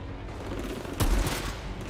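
A single gunshot from a gun in the video game Outriders, a loud burst with a brief echoing tail over steady game ambience.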